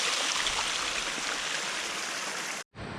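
Small waterfall feeding a stream of clear water on a hill, a steady broadband rush close by, continuous until a brief cut near the end before resuming, with no talk.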